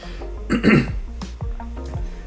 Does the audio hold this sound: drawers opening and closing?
no